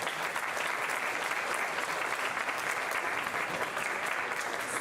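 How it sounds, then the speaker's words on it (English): Sustained applause from an audience at a high school senior awards ceremony, steady and dense throughout with no voices over it. "so we applaud you for that"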